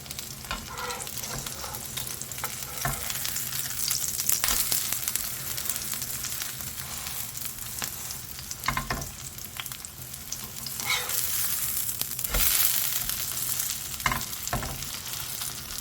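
Steady sizzling of a Korean water dropwort and squid seafood pancake frying in a hot pan over low heat, with occasional scraping and stirring clicks, close and continuous throughout.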